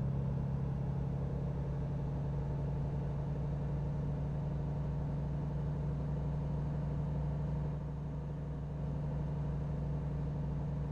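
A car cruising along in the evening, its engine a low steady hum at moderate, even volume with a slight dip near the end, no voices present.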